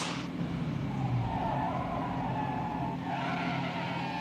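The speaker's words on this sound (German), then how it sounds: "Beim Bremsversuch aus einer Geschwindigkeit von 100 Kilometern" A 1964 BMW 1800 makes an emergency stop from 100 km/h, with a steady, loud roar of car and tyre noise running through the whole stretch and no clear pause.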